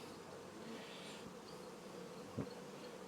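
Honeybees from a caught swarm drone in a hive under a carport, a faint, steady buzzing hum with a short louder burst near the end.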